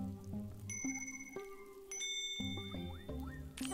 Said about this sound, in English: it's a little bell!